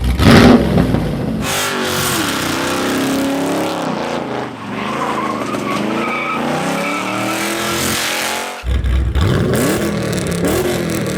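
Loud Holden ute engine cranks and fires, then revs hard in sustained roaring bursts with rising and falling pitch, close and dominant, a brief dip near the end before it roars back up.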